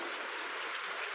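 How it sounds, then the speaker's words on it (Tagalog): Heavy rain falls in a dense, steady hiss of countless drops hitting surfaces, filling the short stretch evenly with no breaks and no voices. "Malakas kasi ang ulan."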